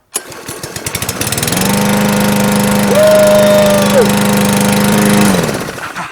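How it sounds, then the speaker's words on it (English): A Craftsman 21-inch lawn mower engine putters as it starts, then settles into a loud, steady close-up drone with rapid knocking pulses, and a voice speaks briefly over it. "And that's what you call a good lawnmower."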